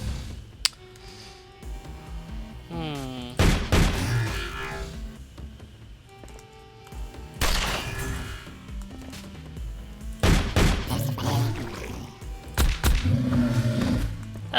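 Large roars from bears in the video game The Pit, several loud bursts with rough growling tails spread across the stretch, set against a low game ambience with occasional sharp impacts.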